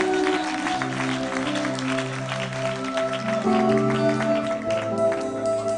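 A church congregation at a healing service in Gonaïves, Haiti, claps steadily and loudly over sustained music, a dense continuous patter of hands.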